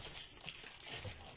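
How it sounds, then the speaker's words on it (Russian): Small plastic packet from a toy unboxing being torn open and crinkled, a short, quiet, close rustle with no talking. "И вот последний пакетик, Машина, открывай."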